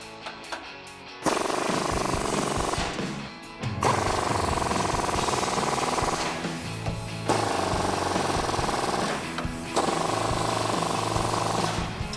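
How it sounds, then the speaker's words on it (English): Pneumatic air gun with a swivel socket tightening bull bar bolts on a Ford F150, loud sustained rattling bursts in several runs separated by short pauses, close up. "we're going to go ahead and use an air gun and a swivel socket"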